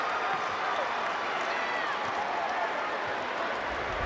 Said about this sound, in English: the fans are allowed to stand and applaud after the first 16 minutes